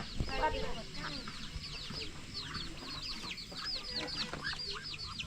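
Chickens kept in a Kmhu ethnic village in the forest of northern Laos cluck and cackle repeatedly nearby, with chirping birdsong overhead and faint human voices in the background.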